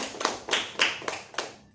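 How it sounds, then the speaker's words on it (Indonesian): Classroom students clap in short bursts, five or six quick separate rounds of hand claps close by in a small room, no voices. "Tepuk tangan buat Widiawati."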